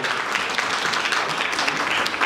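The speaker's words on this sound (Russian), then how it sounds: "Довольные и счастливые аплодисменты, друзья мои." Close, loud applause from an audience at a stage show, a dense continuous patter of many hands clapping without a break, heard alone with no speech.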